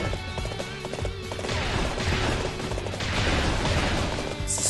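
Horse hooves gallop steadily through a Dynasty Warriors 8 battle at Tong Gate, a dense continuous clatter mixed with loud game noise and no talking.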